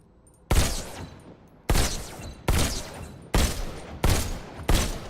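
Six loud pistol shots from the VR game Robo Recall, fired one at a time at roughly one-second intervals, each a sharp crack with a short decaying tail. There is no talking.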